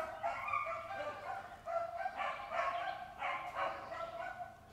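Beagle hounds bay on a summer run, a pack of repeated, overlapping howling barks that rise and fall in bursts, fairly close and loud.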